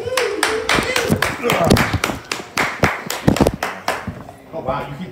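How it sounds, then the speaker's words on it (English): An audience at a Manhattan comedy club claps in a loud, irregular patter of hand strikes, with a voice speaking over the applause. "you keep clapping"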